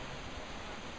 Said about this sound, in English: With water crashing down onto a two-tiered waterfall